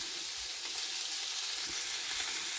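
Thick asparagus end pieces sizzle in a hot pan, a loud, dense, unbroken hiss close by that lasts the whole moment, with no talking.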